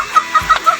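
A chicken clucks four times in quick, evenly spaced bursts, close and clear against a quiet background.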